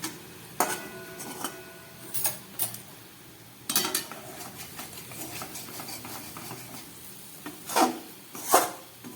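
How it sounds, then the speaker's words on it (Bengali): A utensil stirs fried lata (snakehead) fish through thick masala in a pan, making intermittent close scraping and clinking strokes over a light sizzle. "ভেজে রাখা মাছগুলোকে দিয়ে আবার একটু নাড়াচাড়া করব"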